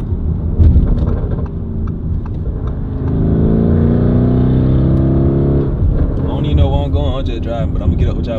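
A car engine rumbles loudly at close range, swelling into a sustained revving drone midway and then easing off, with people talking over it.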